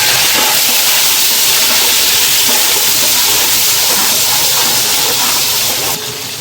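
Tomatoes sizzling in a pan for a chicken curry, added over softened onion, green chilli and cinnamon spice; a steady, close frying hiss runs throughout with no talk, easing slightly near the end.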